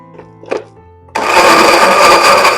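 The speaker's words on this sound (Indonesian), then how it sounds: "Kita blender aja biar cepet." A couple of soft clicks and knocks, then a blender abruptly switches on and grinds chili spice paste loudly and steadily, whirring through the thick mixture.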